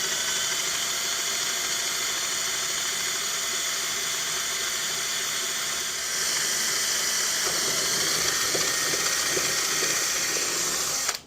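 A power drill bores through the steel axle shaft of a Predator generator, a steady loud whine and hiss running throughout, growing slightly harsher partway in, with a few faint knocks near the end before it cuts off.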